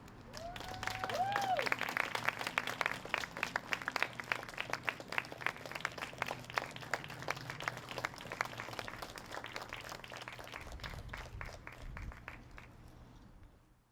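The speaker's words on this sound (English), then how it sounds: "let's give Angie another round of applause" An audience at a candlelight vigil and awards event applauds Angie after she shares her story: fairly soft, rapid clapping from many people that swells early, holds for several seconds, then thins and fades away near the end.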